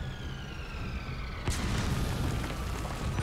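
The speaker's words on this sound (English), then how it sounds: "Bombardment!" Bombardment explosions in the video game Metal Gear Solid V: a sharp burst hits partway through, then dense booming rumble carries on over a steady background tone, with no voices.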